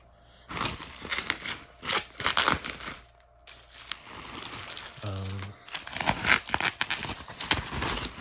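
A new hardcover photography book is unwrapped by hand, with bursts of crinkling, tearing and rustling packaging, close and intermittent, broken by short pauses.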